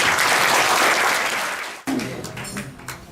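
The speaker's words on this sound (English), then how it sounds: "I'd like to just ask you to give her a round of applause." Dense, sustained clapping from an audience at a women's conference celebration banquet, loud and steady before cutting off abruptly, followed by a few scattered claps.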